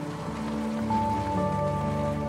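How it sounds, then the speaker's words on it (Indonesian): Rain falling in a Korean drama scene: a continuous soft hiss of rain runs throughout, under sustained musical tones, with no speech. "hujan mulai turun"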